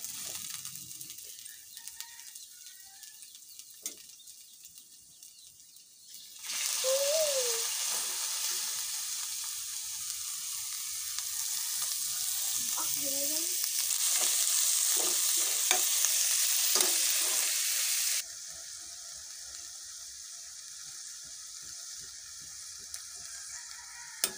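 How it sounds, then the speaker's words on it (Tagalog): Ground pork sizzling in a hot pan and being stirred, a sharp frying hiss that begins suddenly after quiet kitchen sounds, stays loud and steady with scraping and clatter, then drops back to a softer background. "Ni Ate Kenzie, lagay mo yung karne, ate."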